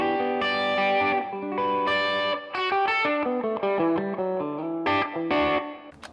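An ESP M-II electric guitar with EMG pickups and volume rolled back plays a run of distorted single notes and chords with chorus and reverb, loud and close with no talking.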